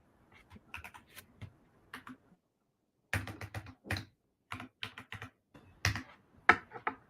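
Fingers tap a computer keyboard in quick irregular bursts of sharp clicks, with a brief pause before a denser flurry of keystrokes, close and clear with no talking.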